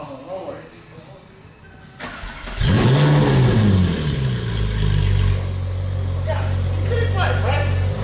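A supercar with a custom muffler and open exhaust valve fires up and revs, a loud rising bark settling into a deep rumbling idle, with voices talking nearby before the start.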